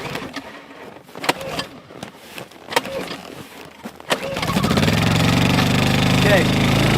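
A small engine fires up on a brutally cold winter day after its choke is shut off, with clattering and knocks giving way to a loud, steady running drone that holds to the end. Voices are heard before it catches.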